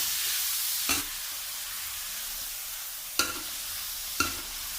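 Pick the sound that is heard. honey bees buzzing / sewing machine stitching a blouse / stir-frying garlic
stir-frying garlic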